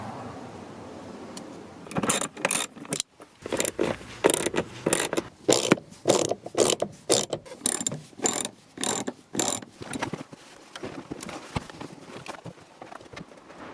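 A ratchet wrench works 12mm seat bolts loose in a Honda Civic, giving bursts of quick, sharp metallic clicks in an uneven rhythm, close up and fairly quiet.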